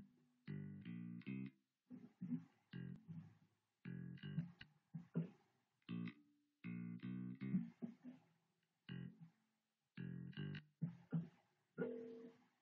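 Bass guitar plays a funky four-bar riff, with short, punchy, syncopated notes separated by gaps. It is close but quiet, with no talking.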